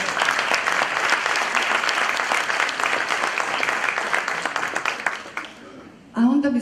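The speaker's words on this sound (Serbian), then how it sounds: "E sad jedan aplauz za mene" Audience applause at an entrepreneurship presentation: sustained, dense clapping for about five seconds that thins out, and then a single voice begins speaking.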